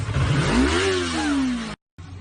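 An engine revs hard and rises in pitch, then holds a steady high drone before cutting off abruptly, with a brief resumption of rough engine noise afterward; loud and close.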